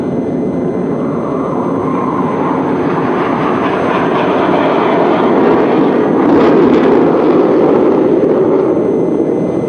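A MiG jet fighter roars overhead at a naval air show, a loud, steady, broadband rumble that swells slightly toward the end, with no talk over it.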